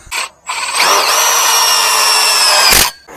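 Close and loud, a power drill sinks self-drilling tapping screws during canopy assembly, opening with quick trigger blips, then holding a sustained whine that wavers in pitch before stopping abruptly. A louder burst hits near the end. No voices.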